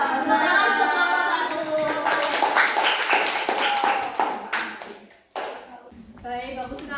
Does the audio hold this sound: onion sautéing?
no